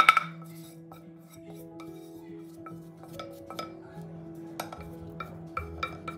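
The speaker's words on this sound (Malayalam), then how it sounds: "അപ്പോൾ നമുക്കിതൊന്ന് മിക്സീൻ്റെ ജാറിലേക്ക് ഇട്ട് കൊടുക്കാം" Cooked ingredients for Kerala-style kanthari chicken are tipped from a spoon into a small mixer grinder jar, giving light metallic clinks and scrapes, with a louder knock at the start and a few sharper taps near the end.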